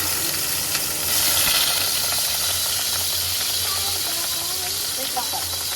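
Ingredients dropped into hot cooking oil sizzle with a loud, steady hiss that swells briefly, with faint crackles and low clatter throughout, no speech over it.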